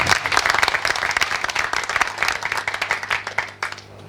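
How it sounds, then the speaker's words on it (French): Sustained applause from the audience at a closing ceremony for training programs, with dense, steady clapping filling about four seconds before thinning out at the end. "Donc des applaudissements encore pour lui."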